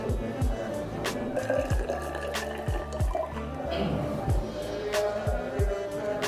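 Distilled water pours into laboratory glassware for a chromatography preparation, with repeated rising gurgles and splashing drips in an uneven rhythm, close and fairly loud.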